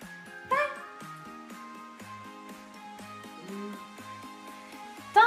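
A tired pet dog whimpering and yipping in short high whines, with a couple of sharper bark-like yelps near the start and end, close and fairly quiet in an indoor room.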